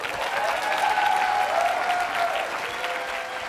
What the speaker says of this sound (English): can we have a round of applause for our students?